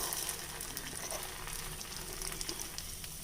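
Sweet paniyaram batter made with jaggery hitting a hot pan over a medium flame, giving a steady, close crackling sizzle with no one talking.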